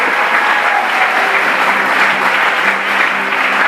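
Church congregation applauding together, a steady, dense wash of clapping that stays loud and even throughout with no pauses.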